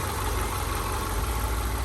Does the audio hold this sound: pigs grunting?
no